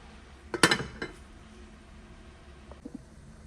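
A metal lid clanks onto a cooking pot of Jamaican-style steamed cabbage, one sharp clatter with a quick rattle, followed by a softer settling knock and faint small clinks in a quiet kitchen.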